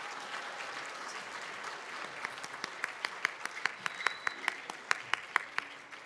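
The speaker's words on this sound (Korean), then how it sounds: "더 큰 박수로 퇴장할 때." Audience applause at a school graduation, a soft diffuse patter of clapping that settles into a steady rhythmic clap of evenly spaced, sharp beats toward the end.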